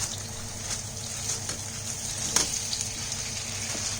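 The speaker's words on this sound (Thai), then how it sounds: "ก็ใส่ปลาหมึกลงไปนะคะคราวนี้ปลาหมึกลงไปนะคะ" Squid stir-frying in a hot pan with vegetables gives a steady, close sizzle throughout, with occasional small pops and scraping clicks of stirring.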